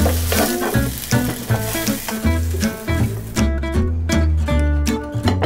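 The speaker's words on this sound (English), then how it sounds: "Now I'm going to put potato." Potatoes drop into hot ghee in a pan while cooking biryani, giving a steady, bright sizzle that carries throughout, partly mixed with melodic background music.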